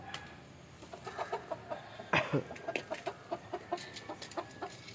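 Native country chickens cluck softly in a steady series of short clucks, with one louder squawk partway through; a calm farmyard scene at moderate distance.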